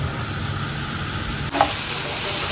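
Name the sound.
onion sautéing in a pan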